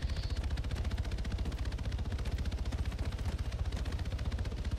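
Rapid video-game gunfire from NPCs shooting at each other, a dense continuous burst of automatic shots rattling steadily throughout, fairly loud with no talk over it.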